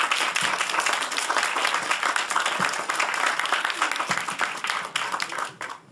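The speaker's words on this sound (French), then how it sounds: "On peut applaudir nos intervenants ?" An audience in a hall applauds the speakers at the close of a talk, with broad, sustained clapping from many hands that stays loud and then begins to fade at the end.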